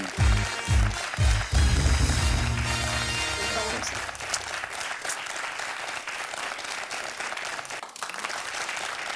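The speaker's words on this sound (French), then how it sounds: "Que d'applaudissements, que d'énergie." A TV quiz show studio audience bursts into loud applause over a fading musical sting, with the clapping continuing dense and steady after the music ends.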